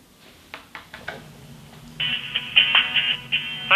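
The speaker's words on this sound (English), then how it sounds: "Okay, it's ringing." On a GPO 700 series telephone, a few soft taps are followed by a steady, bright electronic ringing tone coming down the line in repeated pulses, close and fairly clear.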